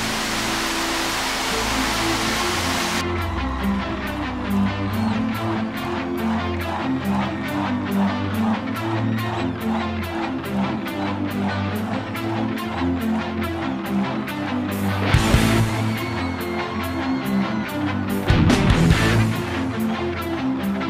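Waterfall on the Braço Esquerdo river, a steady broadband rush of falling water heard continuously and fairly close, with a few brief louder bursts near the end.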